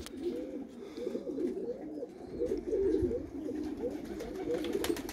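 Pigeons cooing steadily inside a loft, a continuous low murmur of overlapping coos from several birds nearby, with a few faint clicks and rustles.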